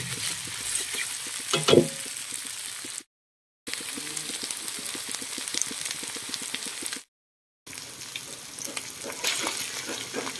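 Aromatic curry paste is stir-fried in a generous amount of oil, giving a close, crackling sizzle with scraping stirs and a louder burst early on, interrupted by two short silent gaps.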